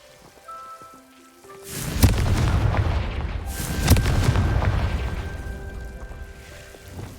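Two heavy booming blasts from a Confringo spell in Hogwarts Legacy, each followed by a long rumbling, crackling decay, loud and close, with no talk.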